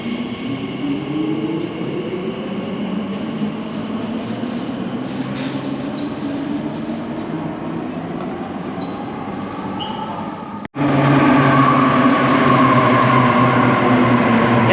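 An Elizabeth Line underground train rumbles steadily along a track, with a sharp jump in loudness near the end as the roar grows heavier and closer.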